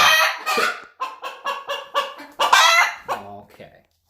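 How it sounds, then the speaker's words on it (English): Several backyard hens squabble in a burst of loud, close, rapid clucks and squawks, one rising into an agitated cackle before trailing off into lower grumbling. "Chicken argument."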